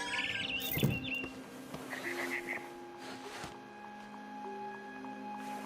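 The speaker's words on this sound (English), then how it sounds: "Then I heard chirping outside my window." Soft chirping of a barn swallow in the video game What Remains of Edith Finch, a few faint high tweets early on over a steady ambient bed, with a speaking voice partly overlapping.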